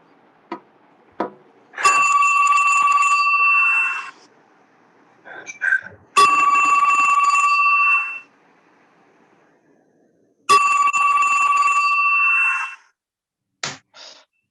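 A telephone ringing after a number is dialed in a Hindi online radio play: three long electronic ring bursts separated by pauses, with a few short clicks between them.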